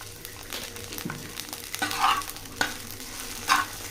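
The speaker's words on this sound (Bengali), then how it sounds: "বটবটিটা একটু ভেজে নেব তেলের ভেতর" Yardlong beans fry in hot oil in a pan, a close, steady sizzle broken by several scraping stirs and louder crackling bursts, with no voices.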